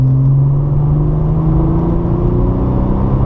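A Porsche 997 Targa 4S accelerates hard on the Bresse circuit, its engine holding a loud, close, steadily rising drone with strong low harmonics climbing in pitch throughout.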